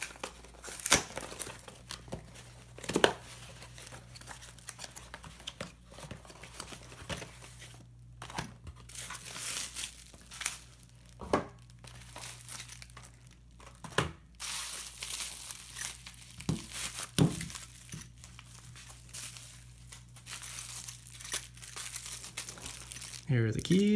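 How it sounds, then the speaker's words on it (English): Someone opens a box holding a lock and picking tools, crinkling and tearing the packaging in irregular, close rustling bursts with sharp cracks, and faint speech now and then. "Only if I can get into the box, though."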